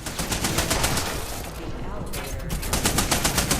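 Gun turrets fire in the shooter game Level Zero Extraction, a dense, loud stream of rapid automatic shots that barely lets up across the few seconds.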